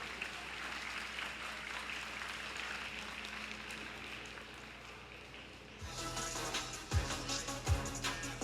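Steady applause from a large crowd of teachers at an outdoor rally fills the whole stretch, fairly distant and even, with low thumps and louder handling noise near the end.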